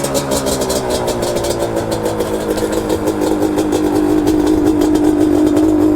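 A Yamaha Banshee two-stroke motorcycle engine idles steadily with a rapid, buzzing putter, close and loud, pitch climbing slightly toward the end.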